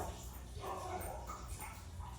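Dogs bark faintly in the distance, a short run of quiet barks and yips under low background noise.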